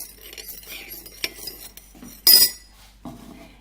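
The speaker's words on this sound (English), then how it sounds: "Give it a little stir." A spoon stirs coffee brewed in a moka pot for cappuccino, giving light, scattered clinks and scraping against the cup, with one brief, louder clatter partway through.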